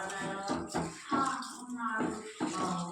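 Sorghum grains being washed in a bowl of water, with steady sloshing and splashing throughout as a voice talks over it.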